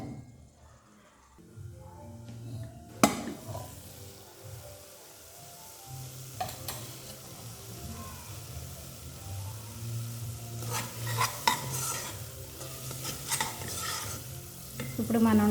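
Paste for mushroom biryani fries in oil in a pan, a soft sizzle under repeated spoon stirs and scraping against the metal, with clinks growing busier toward the end.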